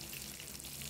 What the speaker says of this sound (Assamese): মাছৰ মাথা এয়া ভাজি আছে